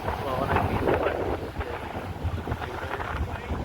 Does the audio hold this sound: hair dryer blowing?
no